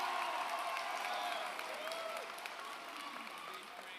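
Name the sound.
audience applause at a graduation ceremony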